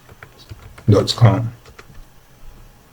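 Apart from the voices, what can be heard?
typing a web address on a computer keyboard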